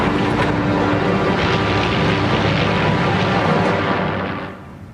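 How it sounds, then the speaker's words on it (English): World War II bomber aircraft flying overhead, a loud, dense, continuous engine drone that holds steady and then fades away toward the end. "A large force of bombers took off as the Dutch hesitated."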